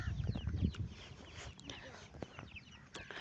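Chickens on a farm with pigeons nearby cluck in short, scattered bursts close by, mixed with light rustling and faint background voices.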